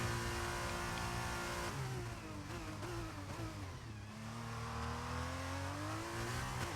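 Racing car engine in a racing video game on an out lap to warm the tyres before qualifying, revving loudly and steadily with pitch sweeping down and back up through gear changes, and no voices.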